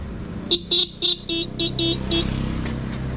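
A motorcycle with a fault idles under a quick run of about seven sharp horn beeps. The low engine hum carries on steadily after the beeps stop.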